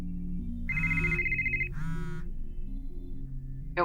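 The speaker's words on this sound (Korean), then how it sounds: "핸드폰이 울리더라." A mobile phone ringtone sounds as an effect in a horror radio story, two short electronic melodic bursts over a low ambient drone, with no speech.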